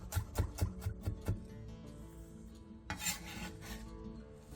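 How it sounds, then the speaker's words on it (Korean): A knife minces half an onion quickly on a board, a run of sharp taps, then pauses before a few softer scraping cuts, close and fairly quiet. "양파 2분의 1개에 화면처럼 칼집을 넣은 뒤 잘게 다져주세요"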